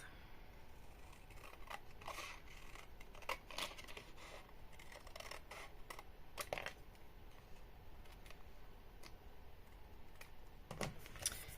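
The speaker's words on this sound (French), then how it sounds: "Et ensuite, on découpe tout le rouge qui dépasse." Scissors trim red paper for a Pokéball invitation card, giving faint, close snips and small paper rustles repeating irregularly over a quiet background.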